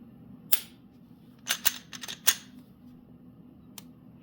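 A Smith & Wesson M&P pistol's striker-fire trigger being pulled and reset, giving a handful of sharp, close mechanical clicks in an uneven cluster, then one last isolated click in quiet.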